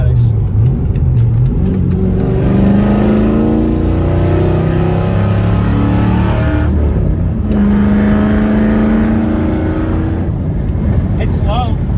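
Ford SN95 Mustang with a manual gearbox, its engine revving loud and close with rising and falling pitch sweeps, under steady road and wind noise while people talk over it.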